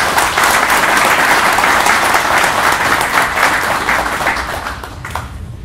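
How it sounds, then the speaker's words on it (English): Loud audience applause fills the room as a speaker is welcomed at a hangar lecture event, steady dense clapping that holds for several seconds before tapering off near the end. "Let's give him a hand."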